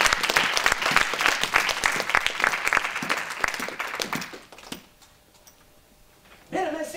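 Congregation applauding in a church, a dense sustained burst of many hands clapping that fades out, leaving near silence before a voice returns at the end.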